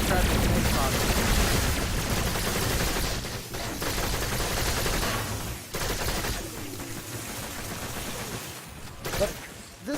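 The Dera gun in Warframe fires in a dense, continuous stream for about ten seconds, loud and close, with a brief lull midway and no talking.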